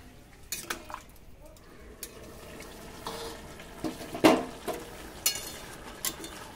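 A sweet pumpkin and potato curry is stirred in a pot, with scattered clinks and scrapes of a spoon against metal over a low simmering hiss, close and fairly quiet.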